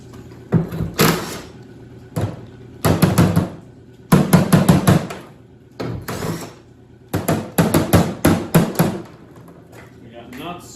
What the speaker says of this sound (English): The impact on it now.